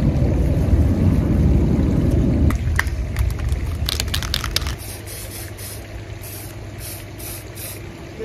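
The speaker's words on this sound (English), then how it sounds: "I'm gonna spray paint black" An aerosol can sprays black paint onto roses in a loud, close, continuous hiss, then the hissing gives way to a few short, quieter bursts.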